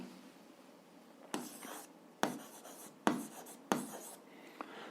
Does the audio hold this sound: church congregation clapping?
no